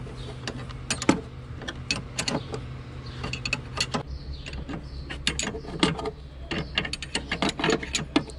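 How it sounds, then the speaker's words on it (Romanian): Metallic clicks and ratcheting turns sound while a screw is tightened on the LPG filter of a Ford Focus MK3 105 hp, with repeated sharp ticks over a low steady hum, fairly close. "Acum să strâng doar de șurubul ăsta de aici."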